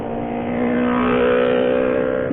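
Powerful motorcycles revving along a rough, potholed road, a steady loud engine roar swelling slightly in the middle with no talking.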